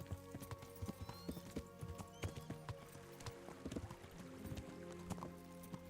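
Horse hooves clip-clop in a steady rapid rhythm in the medieval video game Kingdom Come: Deliverance, alongside tack jingles and faint ambient game tones at low volume.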